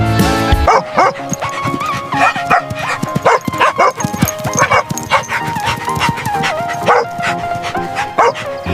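A hunting dog barks and yips repeatedly in quick bursts, loud and close, with whimpering notes and some background noise throughout.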